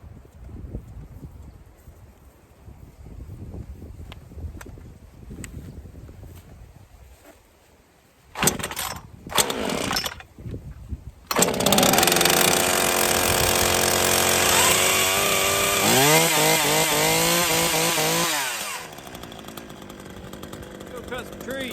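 A Craftsman 18-inch gas chainsaw is pull-started with a couple of sputtering tries, then roars loudly at close range, revving up and down for several seconds before cutting out; low background noise precedes it.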